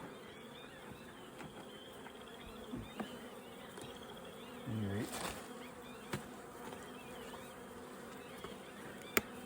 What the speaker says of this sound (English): Clean up bees, you're doing a good job.